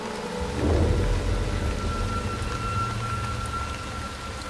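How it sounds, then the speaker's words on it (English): A sudden thunderstorm over the Congo River: a low thunder rumble swells early and rolls on beneath steady, heavy rain that keeps up throughout, with no voices. "This storm just came from nowhere."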